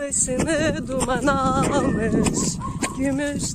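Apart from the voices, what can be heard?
No everyday noise stands out behind the speech.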